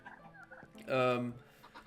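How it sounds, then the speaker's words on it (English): Chickens and turkeys cluck and gobble inside a video game hen house, a louder burst of fowl calls rising in the middle of softer clucking, with faint game ambience throughout. "We've got ourselves a neat little hen house and enough chickens and turkeys."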